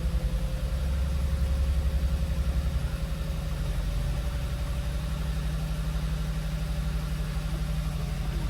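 A car engine with a suspected head gasket problem idles at raised RPM, a steady, even low rumble with a faint pulsing throb running throughout.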